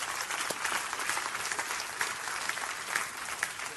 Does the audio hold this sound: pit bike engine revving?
no